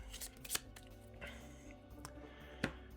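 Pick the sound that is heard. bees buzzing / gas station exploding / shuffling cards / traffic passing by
shuffling cards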